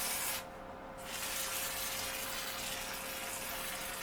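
Water spraying steadily onto 800 grit wet and dry sandpaper while prepping to hone a 1982 Yamaha XT200 cylinder, a continuous hissing gush with a brief dip near the start, close and even.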